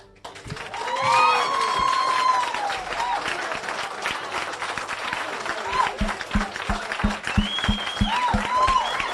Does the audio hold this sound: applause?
yes